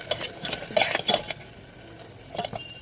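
Food stirred with ghee inside an electric kettle in a hostel room, with soft scraping and a few louder clinks and stirs clustered early and again near the end, over a faint sizzle.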